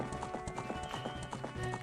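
Steady clip-clop of horse hooves trotting in the beta build of the Ocarina of Time video game, an even repeating rhythm at moderate level, with game ambience beneath and no talk.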